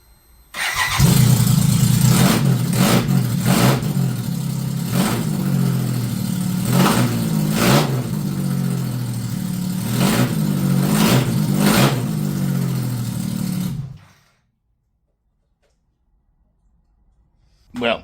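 A BMW K75 motorcycle engine runs close and loud for about thirteen seconds with repeated throttle blips rising and falling, then cuts off into silence before a brief final burst.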